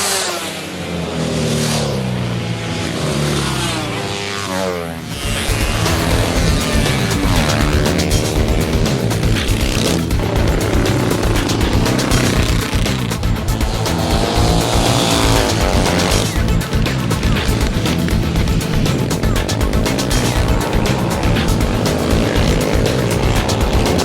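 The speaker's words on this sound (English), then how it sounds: "Main streets are closed off for some awesome street racing, again covering all genres of bikes" Racing motorcycles of many kinds roar along closed-off main streets at the Burt Munro Challenge, engines screaming loud and continuous after a quieter opening, with revving passes and sustained high-pitched drone throughout.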